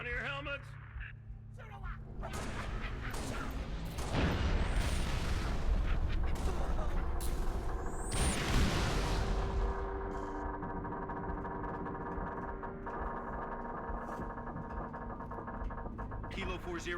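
Fire-support artillery from Halo Reach thunders in two heavy volleys, each a loud boom with a whistling incoming streak, over a sustained low hum and scattered radio chatter.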